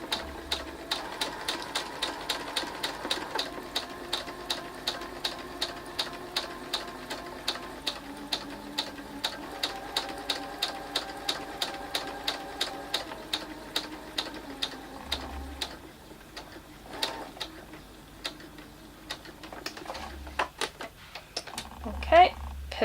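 Domestic sewing machine stitching appliqué onto fabric, a fast, steady run of close mechanical clicks that pauses briefly for pivots and restarts, with some faint talking over it.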